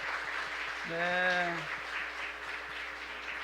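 A congregation at a Korean Presbyterian church applauds after a baptism, with steady, moderately loud clapping from many hands throughout and a man's brief spoken word heard over it.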